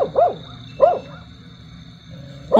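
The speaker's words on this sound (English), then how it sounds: "The dog hears something." A dog barks at night, giving three sharp, fairly close barks spaced about a second apart with quieter background between them, and no talking.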